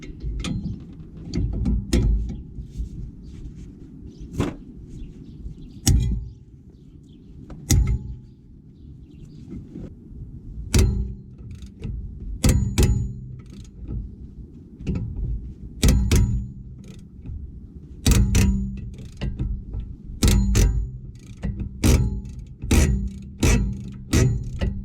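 Ratchet working a stubborn front wheel hub bolt on a BMW E91, heard as bursts of sharp, closely spaced clicks between pauses over a low mechanical background, close and with no talking.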